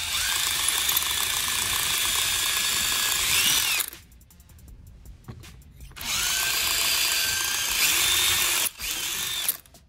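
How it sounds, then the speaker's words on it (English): Power drill boring out a plugged vacuum port fitting on a crash pump aboard a 1988 Hatteras 65C yacht, loud whining bursts that stop and restart, with a quieter pause between runs. "I'm gonna try drilling it, couldn't get the Allen wrench through."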